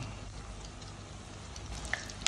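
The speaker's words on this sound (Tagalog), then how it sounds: "Kaya umpisa na ako magprito." Vegetable spring rolls (lumpiang gulay) frying in hot oil give off a steady, close sizzle with a few sharp crackling pops near the end.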